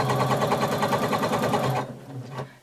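A sewing machine stitches around the hem of a color-blocked pullover top in a steady, fast, close run that stops abruptly, followed by a couple of softer handling sounds.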